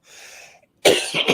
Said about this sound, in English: as soon as you talk about health, you start coughing